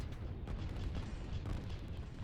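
Tank cannons pound artillery units in a strategy video game, a quick run of deep booming shots and rumbling blasts at moderate level, with no talk over them.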